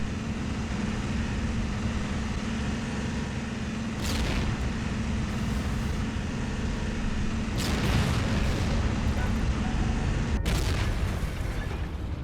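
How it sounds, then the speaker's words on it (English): A Panzer III tank fires on an M10 tank destroyer in the Heroes and Generals game, with a few heavy booms and impact bursts over a constant loud engine rumble. "that was a Panzer III. So that's a low-tier, medium German tank. It took me out like I was nothing"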